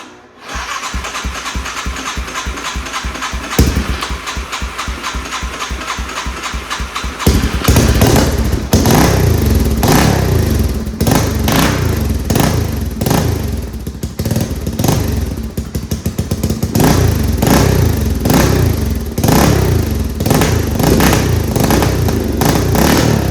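A 1986 Yamaha BW200 big-wheel motorcycle with a loosely fitted muffler sputters and starts, then runs loud and close, its single-cylinder engine popping and revving in repeated rhythmic surges.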